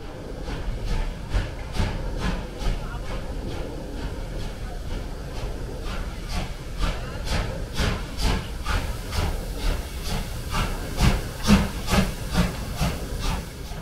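A steam train approaches slowly, with rhythmic chuffs and hissing steam that grow gradually louder and closer over a low rumbling background; no voices.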